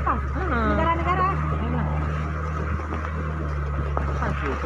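A sea ship cruises across open water off East Aceh, its steady low engine drone and hull rumble continuous throughout, with people talking in the background.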